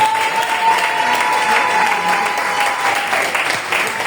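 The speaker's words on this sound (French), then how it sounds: "Je croyais que tu allais acclamer très fort" A church congregation applauds loudly at a Sunday service, a continuous close crowd clapping that lasts the whole few seconds, with a faint sustained tone beneath it.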